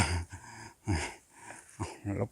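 A man out in the countryside hunting for bamboo shoots breathes heavily after a long walk, with four rough, rhythmic panting gasps close to the microphone.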